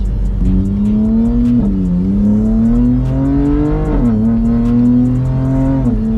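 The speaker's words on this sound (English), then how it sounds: "So it's a 3-liter twin-turbo inline 6." A BMW M4 Competition's S58 3-liter twin-turbo inline-6 drones loudly and close, its pitch climbing under acceleration and dipping briefly at gear changes before rising again.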